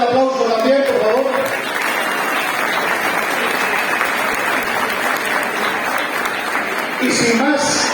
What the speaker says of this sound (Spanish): Así que fuerte el aplauso también, por favor